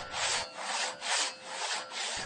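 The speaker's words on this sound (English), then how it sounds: "The first thing we did was pull out the two-man crosscut saw and buck the log into lengths." A two-man crosscut saw bucks an oak log, rasping in a steady back-and-forth rhythm of about four strokes, each a swelling scrape with brief pauses between, close and moderately loud.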